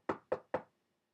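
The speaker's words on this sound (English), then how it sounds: "Knock, knock, knock." Three quick, evenly spaced knocks on a door, crisp and close, then silence.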